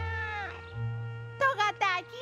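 A cartoon cat lets out two short, close meows near the end, after a steady musical tone plays underneath.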